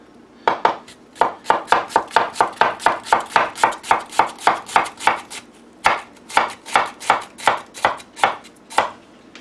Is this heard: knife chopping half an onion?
yes